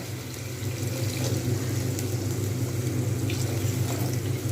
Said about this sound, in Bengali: আমি এর মধ্যে একটু জল দিয়ে দেবো